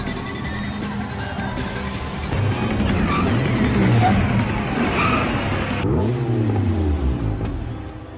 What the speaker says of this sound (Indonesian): Goddamn street racing.